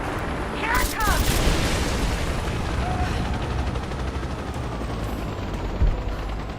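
Dense gunfire rattles through a battle in Rise of the Tomb Raider, a continuous roar of shots and booms with chopper-like drone beneath, while voices talk over it.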